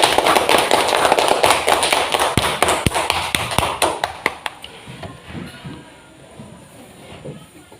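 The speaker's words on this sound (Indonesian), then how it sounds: "Tepuk tangan." A class of pupils claps hands together, starting as a loud, quick burst of many claps, then thinning to scattered individual claps that fade away into quiet room noise.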